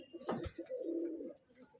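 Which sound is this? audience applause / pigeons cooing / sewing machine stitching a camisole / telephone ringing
pigeons cooing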